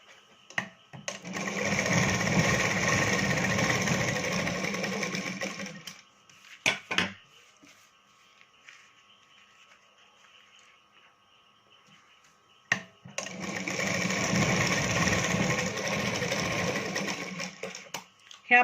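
A sewing machine stitching a lined katori blouse runs in two long, steady whirring bursts of rapid needle clatter, close and loud. Between them comes a quiet pause with a few sharp clicks and handling knocks.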